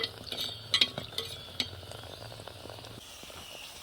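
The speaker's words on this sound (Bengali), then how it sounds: "এই যে এইভাবে করে সব লুচিগুলো ভেজে নেব" Spinach luchi deep-fry in a pan of oil, giving a soft continuous sizzle with a few light clinks and taps of a utensil near the start.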